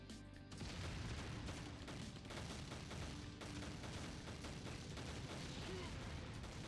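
Artillery salvos pounding and destroying a tank in the war video game Crisis, a dense continuous roar of booms and rumbling fire, loud and unbroken throughout.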